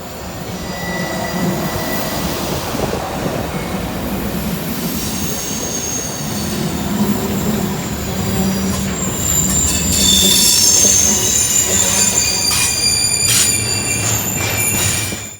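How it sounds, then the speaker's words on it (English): CN freight train led by two GE Evolution locomotives and hauling rails rolls past on Norfolk Southern track, loud and close, with steady wheel rumble and high squealing flange noise throughout. "The next train that just so happened to roll by was the first time I've ever seen a CN train on NS trackage."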